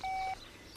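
A single short electronic telephone dialing tone, clean and clear, lasting about a third of a second before falling quiet.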